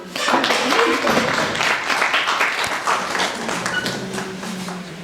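An audience at a school Swami Vivekananda Jayanti event applauds to welcome the first junior-category candidate, a burst of clapping that swells quickly and then slowly thins, with faint voices mixed in.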